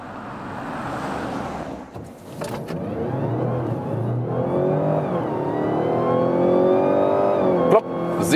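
An all-wheel-drive Mazda CX-60 PHEV with 330 horsepower accelerates from rest to 90 km/h, its engine note climbing steadily through rising tones with a brief shift dip, heard from inside the cabin.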